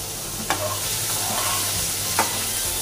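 Paneer pieces shallow-fry in oil with a steady, close sizzle and a couple of faint scrapes from stirring.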